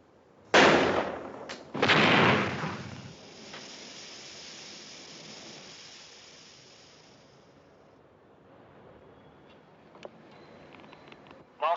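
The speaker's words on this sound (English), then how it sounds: "in 10 seconds, we're going to fire tear gas." Two tear gas canisters fired at a house in a police standoff: two loud, hissing bursts close together near the start, followed by a long fading hiss, then quiet with a few faint clicks.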